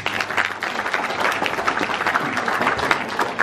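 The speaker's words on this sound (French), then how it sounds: "je demande de l'applaudir." Warm, sustained applause from a conference audience at a French employers' federation presidential campaign forum, dense overlapping claps at a steady moderate level with slight swells, no one speaking.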